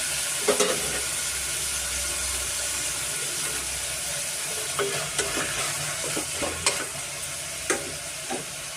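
Tomatoes and salt frying in a pan for a tomato bath, with a steady close sizzle and repeated scraping clinks of a spoon stirring through the mixture, no talking.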